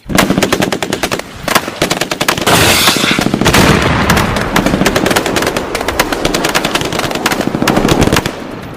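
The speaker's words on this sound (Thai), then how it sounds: "รีบลนลานถดกายคลานถอยออกมาท่ามกลางเสียงปืนอาก้าและ M16 ดังขึ้นมาชุดใหญ่ ติดตามด้วยเสียงระเบิดตูมใหญ่ที่หลังบ้าน" Dense automatic rifle fire from AK and M16 guns crackles in rapid bursts throughout, with a heavy explosive blast swelling midway behind the shooting, loud and continuous like a battle sound effect.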